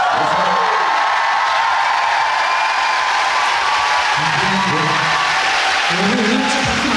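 A concert crowd in Busan cheering and whooping at an encore, a loud sustained roar of voices and applause, with scattered shouts rising above the mass.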